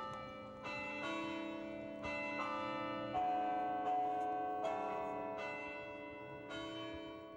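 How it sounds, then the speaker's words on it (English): Tower bells on a university campus play the school's alma mater as a slow, measured melody, each struck note ringing and overlapping the next, moderately distant, with no talk. "playing the university's alma mater on the tower bells"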